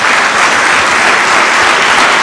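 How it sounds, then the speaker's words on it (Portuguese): Church congregation applauding, a dense, steady burst of many hands clapping together, loud and continuous with no pauses. "Dê uma salva de palmas a Jesus."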